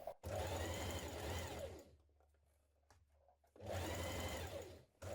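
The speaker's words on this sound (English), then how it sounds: "We're going to stitch it down to the V again, pivot at this point and stitch up the other side" A sewing machine stitches the facing of a jumpsuit, running in two loud continuous bursts separated by a brief quiet pause at a pivot point, close up with no talking.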